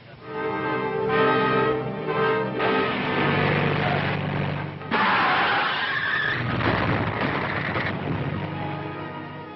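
A car skids at night on a road, a loud, sustained screech of tires that builds, cuts off abruptly near the middle, then continues as a harsher rushing skid and crash-like roar through the end, with no talk.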